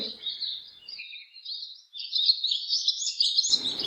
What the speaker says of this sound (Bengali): পাখির কিচিমিচি শব্দ খুবই ভালো লাগছে